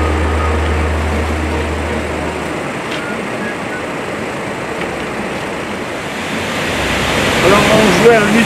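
Waterfall beside the Bonette mountain road, a steady broad rush of falling water filling the whole moment, loud and continuous with a low engine-like hum early on and a slight swell near the end.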